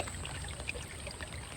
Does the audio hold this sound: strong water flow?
yes